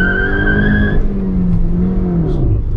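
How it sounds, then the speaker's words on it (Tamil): A Maruti Suzuki S-Cross revs hard as its tyres spin and squeal, a falling whine in the first second giving way to loud, sustained engine and tyre noise, close up with no talk. "Lots of wheel spin on offer."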